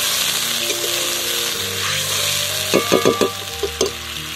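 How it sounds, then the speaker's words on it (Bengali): A splash of water hitting fried spice paste in a hot pan, with steady sizzling followed by a few sharp bursts of crackling and spitting as the liquid meets the oil. "কষানো মশলা থেকে তেল ছাড়তে শুরু করলে এর মধ্যে দিয়ে দেবো একটু জল, সামান্য একটু জল দিলাম"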